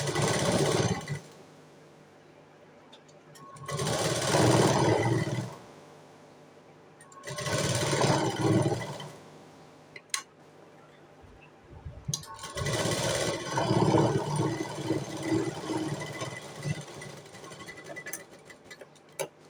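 A sewing machine stitching a button placket on fabric: three bursts of rapid, steady mechanical chattering a few seconds each, separated by quieter pauses with faint handling clicks.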